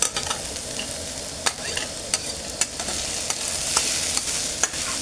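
Chopped onion roasting in a pan, with a steady sizzle and sharp scraping stirs every second or so, close and clear with no voices.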